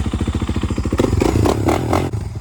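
A Kawasaki KX450F dirt bike engine with a performance exhaust pops in a rapid, throaty rhythm, then briefly revs harder with a raspy exhaust bark before settling.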